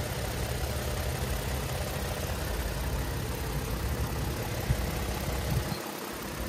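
A 2022 Toyota Tundra SR5 with its 3.5-liter twin-turbocharged V6 idles in a steady, low, even rumble that dips briefly near the end, with no talking.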